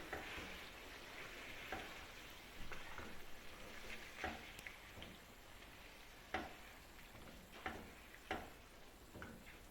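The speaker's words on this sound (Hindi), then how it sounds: "दही डालेंगे और इसको मिक्स करेंगे।" Yogurt being stirred into chicken karahi in a pan, a steady low sizzle under repeated soft scraping strokes and occasional sharp utensil taps against the metal, close and fairly quiet.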